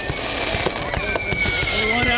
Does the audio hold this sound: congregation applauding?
no